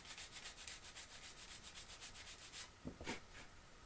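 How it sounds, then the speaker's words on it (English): Sanding a goose feather down into an arrow fletch gives a steady run of quick, close scratchy strokes in an even rhythm, then a brief pause and a few softer rubs. "And you can sand the top down."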